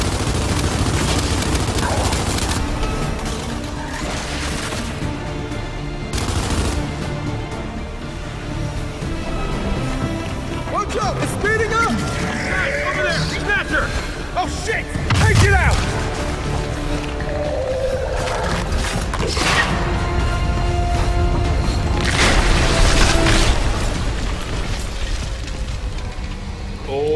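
Frag grenade blast and gunfire in the video game Gears 5: rattling bursts of shots and a heavy thump amid dense battle noise and game sound effects, loud and continuous throughout.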